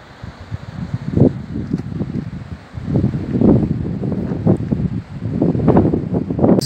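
Wind blows across a seaside campervan site at Martigues on the Mediterranean coast, gusting in uneven, rising and falling rushes of noise against the microphone, with no talking.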